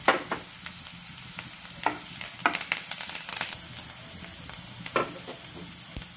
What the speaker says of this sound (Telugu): దీంట్లో కొద్దిగా పసుపు, కొద్దిగా కరివేపాకు, తగినంత సాల్ట్ వేసుకొని మిక్స్ చేసుకోవాలి.